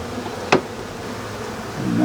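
A swarm of honey bees buzzes around a hive frame, a steady close-up drone with one brief sharp click near the start.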